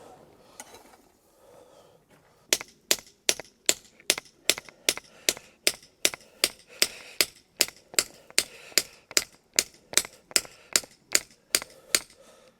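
Hammer blows on hot metal at a homemade forge: after a quiet start, a long run of sharp, ringing strikes lands in a fast, steady rhythm, close and loud.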